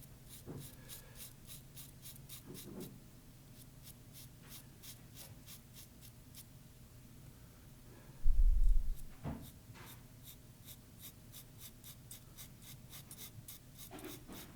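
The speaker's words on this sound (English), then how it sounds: "I am just lightly hatching in one direction." Pencil lightly hatching on paper in one direction, a rapid series of short soft scratchy strokes in bursts, close and quiet, with a brief low thump partway through.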